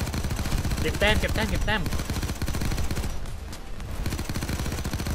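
Rapid automatic gunfire rattles continuously during a Payday 2 heist, loud and close. Someone talks briefly over the shooting.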